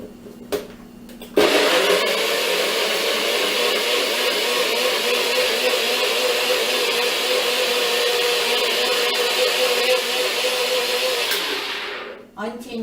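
A blender whirs loudly and continuously for about ten seconds, blending food until creamy, a steady high-pitched motor grind that stops abruptly, with brief talk before it starts.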